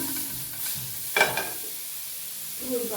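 Dried red chillies and tomatoes frying in oil in a pan while making sesame roti pachadi; a soft steady sizzle with a brief stirring clatter near the middle and another near the end.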